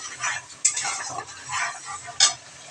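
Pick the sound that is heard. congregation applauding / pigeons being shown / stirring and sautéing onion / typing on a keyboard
stirring and sautéing onion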